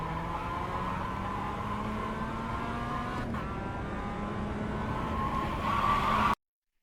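A Mazda MX-5 race car in the iRacing simulator, its engine droning steadily at full throttle with a rising pitch, then the sound cuts off abruptly near the end.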